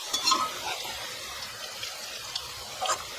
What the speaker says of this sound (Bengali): ফুলকপিটা আমার ফ্রাই হয়ে গেছে সুন্দরভাবে